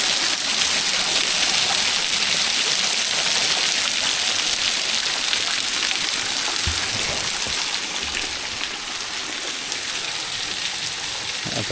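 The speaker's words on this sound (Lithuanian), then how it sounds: "Kaip gražiai vandenukas bėga" A small stream flowing in Madeira in January, a steady broadband rush of running water, fairly loud and continuous, with no talk.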